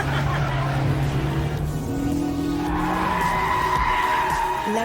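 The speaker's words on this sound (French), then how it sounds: "on va vraiment arriver sur une grosse phase de freinage" Renault Mégane RS 275 Trophy-R braking hard from speed, its tires skidding and squealing in rising and falling tones over road noise, loud and continuous throughout.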